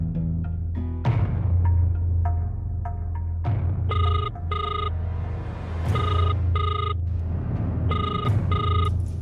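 A telephone rings during an outgoing call, with repeated paired bursts of an electronic ringtone at a steady rhythm over a low background hum, fairly clear and alone without speech.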